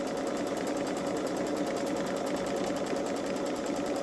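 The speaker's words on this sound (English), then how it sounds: "it will do 2 rows of straight stitching" A Babylock Solaris 3 embroidery machine runs straight stitching on background fabric in a hoop, a steady fast mechanical whir with even rapid needle ticking, close and continuous throughout.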